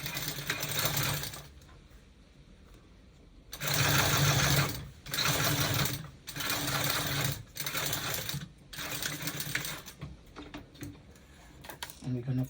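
Sewing machine understitching a bodice seam, running in several loud bursts of rapid mechanical whirring separated by short pauses, with a voice talking in between.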